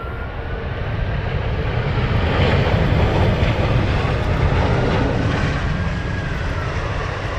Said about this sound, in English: An aircraft so big, how quiet.